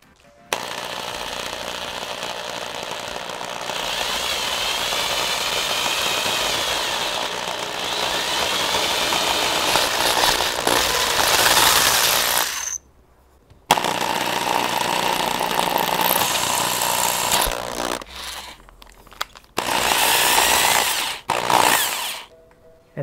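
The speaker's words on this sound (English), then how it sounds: "I'm gonna start drilling through this" A power drill bores steadily through an aluminum 2JZGTE coolant neck, whining loud and continuous for about twelve seconds, then cutting out and restarting in several shorter bursts near the end.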